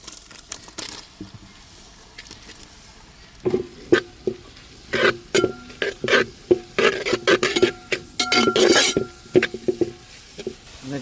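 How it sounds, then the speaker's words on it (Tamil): Onions sizzle and crackle in melted butter in a pan, with stirring scrapes and clinks of a utensil coming in bursts after a quieter start, close and fairly loud, with no talk. "வெண்ணெயிலே நல்லா ப்ரௌன் கலராக வெங்காயம் வதக்கி வந்துருச்சுங்க"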